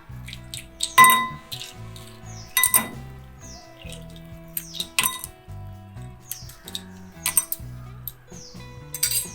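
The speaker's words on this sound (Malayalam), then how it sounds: "ഇനി അതിലേക്ക് ഐസ് ക്യൂബ്സ് ഇടും" Ice cubes tumble into a glass for a watermelon mojito, giving several sharp, close clinks and rattles spread across the stretch, with steady background music underneath.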